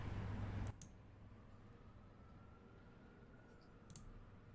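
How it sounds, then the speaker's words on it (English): Six dice rolled together at a tabletop game clatter in one brief, loud rattle, then settle with a couple of faint ticks over quiet room hiss. "I rolled 6 dice"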